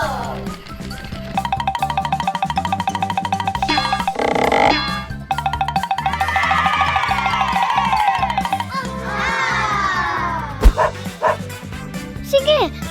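Dogs bark and yip several times over bouncy, steady music, with voices talking between the barks.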